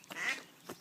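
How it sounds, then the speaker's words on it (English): A pair of nasal quacks from farm ducks, including large meat ducks and fancy breeds, one longer call then a shorter one, moderately close with no talking. "Those 2 big ones are meat ducks."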